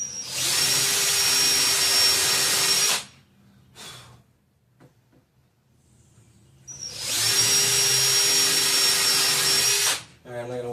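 A power drill boring into a WEBE enclosure in two long whining bursts of about three seconds each, separated by quiet handling noises and breathing, close by.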